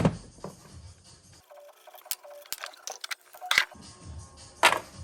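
A ratchet with an E18 Torx socket clicks in short irregular bursts while undoing the gearbox mount bolts on a Smart 451, close and fairly quiet, with brief pauses between strokes.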